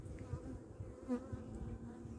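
Honeybees in a crowded, queenless split hive give a low, steady close-up buzz, with a few individual bees droning louder as they pass, and no voices.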